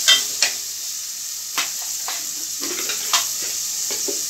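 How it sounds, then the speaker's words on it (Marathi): Chopped tomato with turmeric, red chilli powder and salt frying in a pan, a steady soft sizzle broken by a few brief stirring scrapes and clinks, close and alone with no talk. "आता आपल्याला छान फ्राय करून घ्यायचं"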